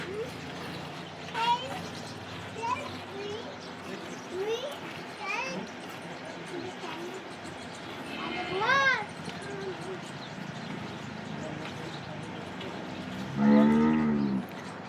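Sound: cow mooing

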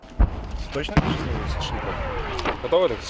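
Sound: gunfire and shelling on the front line near Kurdiumivka

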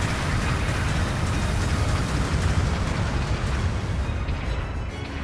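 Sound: mobile suit exploding in a Gundam video game

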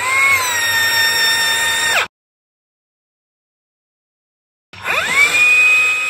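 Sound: Metabo rebar bender bending half-inch rebar 90 degrees

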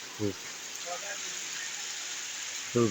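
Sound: heavy rain on a street

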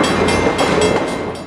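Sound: Amtrak passenger train running on rails

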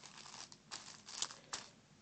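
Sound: plastic bags crinkling

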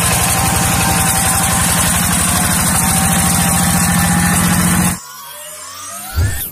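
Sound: rice field tractor engine idling

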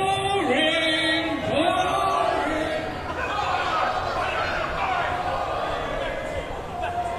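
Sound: expo crowd jeering, chanting boring

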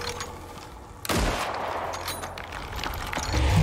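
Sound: gunfire in a video game

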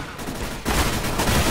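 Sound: gunfire in the video game CS:GO

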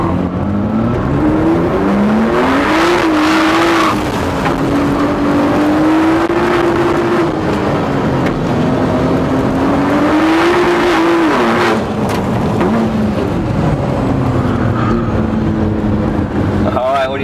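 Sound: Ford GT40 sports car racing on track

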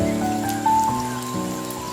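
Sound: light rain falling

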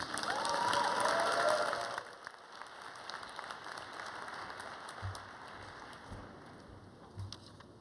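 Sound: audience applause for a speaker

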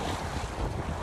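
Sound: wind blowing on sailboat at sea

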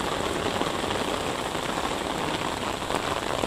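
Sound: rain getting heavier

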